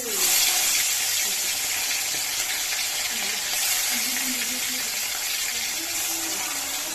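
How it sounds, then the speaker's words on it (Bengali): Fish frying in oil in a wok, a close, steady sizzling hiss that holds throughout with little change in loudness. "মাছগুলি ফ্রাই করে নিয়ে"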